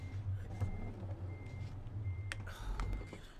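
Truck reversing beeps inside a trucking video game, a thin steady beep tone repeating over a constant low engine rumble with a sharp hiss near the middle.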